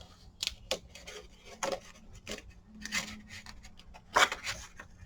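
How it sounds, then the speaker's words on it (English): Paper being folded and handled for a craft book page pouch: a string of short crinkling rubs and creases, fairly close, separated by brief pauses, with no talk. "So I'm going to do like half and half and then fold it over."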